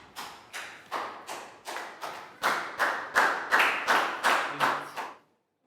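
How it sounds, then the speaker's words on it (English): A school class clapping in unison, about a dozen sharp, evenly spaced group claps that grow louder partway through before stopping abruptly. "Big round of applause for Pak Bung."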